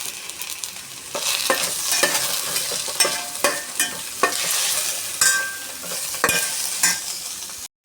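Tomatoes, onion and green chillies sautéing for chicken thoran, a dense close sizzle with repeated scraping and knocking strokes of a spoon against the pan, cut off abruptly at the end.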